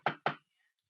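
Two firm knocks on a telephone handset from an elderly emergency caller signalling yes, close and crisp, about a fifth of a second apart, followed by near silence.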